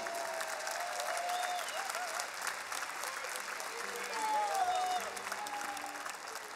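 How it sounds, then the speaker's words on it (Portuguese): Steady audience applause for the musicians at a live fado-style concert in Lisbon's Coliseu hall, a dense continuous wash of many hands from a large crowd, with a few faint voices and whistles mixed in. "Um grande aplauso para eles."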